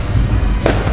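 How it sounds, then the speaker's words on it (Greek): Fireworks go off nearby in an evening setting, one sharp loud bang standing out against a constant low rumble of crowd and street noise. "Όχι, ρίχνουν πυροτεχνήματα."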